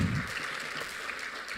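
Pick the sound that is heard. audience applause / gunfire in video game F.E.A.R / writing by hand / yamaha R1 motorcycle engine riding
audience applause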